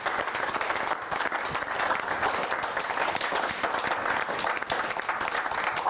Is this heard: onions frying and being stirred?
no